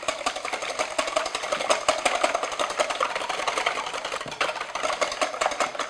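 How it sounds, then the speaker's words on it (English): Eggs get whisked by hand in a bowl, with a rapid, steady clicking and rattling of the whisk against the bowl that runs continuously, close and fairly loud. "So just give that a whisk."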